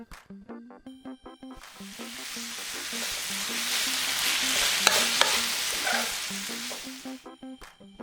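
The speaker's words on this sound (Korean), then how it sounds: "골고루 대파 넣고 1분 정도 버무려줬다" Korean palace-style tteokbokki, rice cakes tossed in a pan with soy sauce, oyster sauce, sugar and green onion, sizzles steadily while a spatula scrapes and clatters in a rhythmic pattern, close and fairly loud, with no talking.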